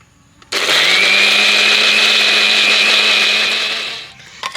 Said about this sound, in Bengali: তো এবার মিক্সির জারের ঢাকনাটা দিয়ে মিক্সিতে ঘুরিয়ে চাটনিটা বানিয়ে নেব